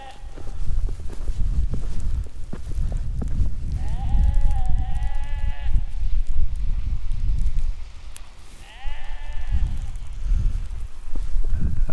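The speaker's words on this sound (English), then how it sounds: "do you hear, my friends, the black sheep?" Two drawn-out bleats from a black sheep in the Faroe Islands, with a wavering tone, each lasting a couple of seconds, over steady wind and outdoor rumble.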